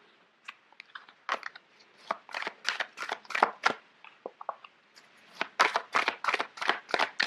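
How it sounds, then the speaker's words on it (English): Large tarot cards shuffled by hand nearby, giving a string of papery slaps and flicks in irregular bursts with brief gaps, with no talking. "Sorry, these cards are quite big."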